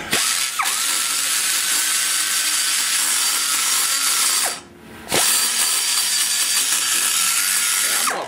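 A grinder works into the combustion chamber of a Big Block Chevy cylinder head, with a continuous loud abrasive whir that dips briefly in the middle before resuming.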